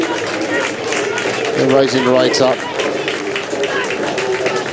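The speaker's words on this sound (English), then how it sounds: "the crowds are giving them a cheer as they come in" Spectators at the finish of a women's eight rowing race at Banyoles, Spain, give a steady, moderate cheer and murmur, heard under continuous commentary.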